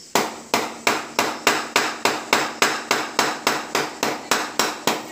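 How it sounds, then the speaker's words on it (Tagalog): A hammer pounds steadily on a banana plant in rhythmic, evenly spaced strikes, about three per second, each a sharp close knock with a brief ring, with no talk. "Kailangan dahan-dahan ang pukpok."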